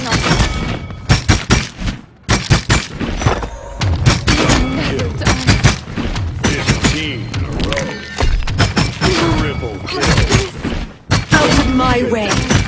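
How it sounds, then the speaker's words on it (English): Rapid shots from the video game Paladins fire in dense bursts with heavy thumps, mixed with game character voice lines and announcer callouts. "Enemies are firing on us."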